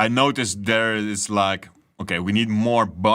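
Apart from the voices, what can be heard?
No everyday noises stand out.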